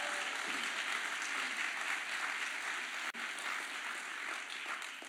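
A large university audience applauds steadily at a gift announcement ceremony, a dense, even wash of clapping that holds throughout with only a brief dip partway, and no one speaking.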